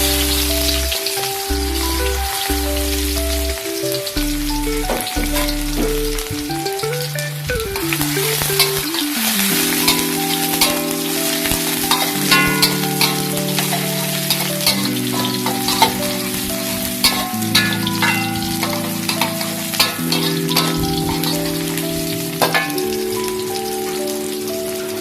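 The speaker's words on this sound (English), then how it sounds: "Stir fry the shallot and garlic." Shallot and garlic stir-frying in a hot pan while cooking pumpkin, a steady close sizzle and crackle with occasional stirring scrapes, alone without talk, over a loud continuous music bed.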